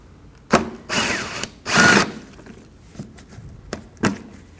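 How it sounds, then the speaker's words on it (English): Power driver with a T30 Torx bit backing a screw out of the fender liner of a 2014–2023 Ford Transit Connect, several short close bursts of whirring and clicking separated by quiet pauses, the longest burst about half a second. "Remove this using a T30 bit."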